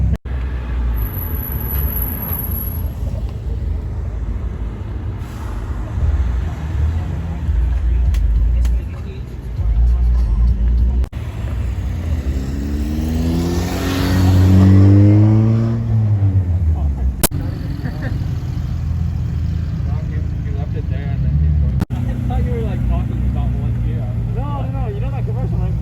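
Engines of Mazda cars, including rotaries and Miatas, rumble and rev at a car meet, with a rising pass-by rev mid-clip over constant low engine drone and crowd chatter nearby.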